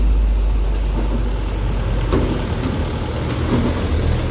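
A Jetbus 2 coach drives off a ferry deck at an executive port, its deep engine rumbling loud and close with faint hisses and clanks over the steady drone.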